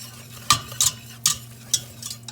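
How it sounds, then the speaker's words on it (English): A whisk beats flour into melted butter in a pan in about five brisk, separate scraping strokes over a faint steady hum, close by and without speech. "I'm just going to really whisk that in"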